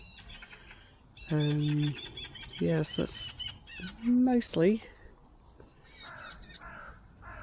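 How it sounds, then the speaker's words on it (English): Baby birds call from a conifer behind a garden, giving several loud, harsh, caw-like bursts at close range, with a voice speaking briefly among them. "I can hear baby birds of some sort in the conifer behind me, somewhere in there."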